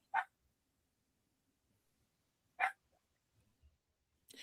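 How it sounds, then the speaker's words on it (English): A dog barking in a quiet room, three short sharp barks spaced a couple of seconds apart, fairly faint, with near silence between them. "Listen to that dog."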